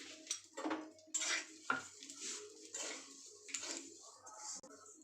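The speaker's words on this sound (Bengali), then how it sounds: "এই একই ঘিয়ের মধ্যে আমি এবার সিমুইগুলোকে ভেজে নেব।" A utensil stirs vermicelli (sewai) frying in ghee in a pan. It makes quiet, intermittent metallic clinks and scrapes in uneven bursts, with a soft voice in the background.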